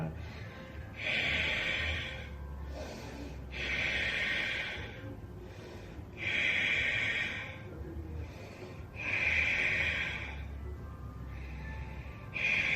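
Slow, deep yoga breaths, each inhale and exhale a long airy rush, repeating in an even rhythm close to the listener over a quiet room.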